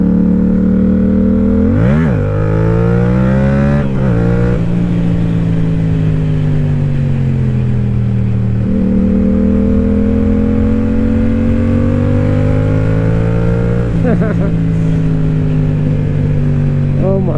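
A motorcycle engine drones loudly and continuously during a ride on a mountain road in western North Carolina, its pitch dropping and climbing again at several points as the rider shifts and throttles.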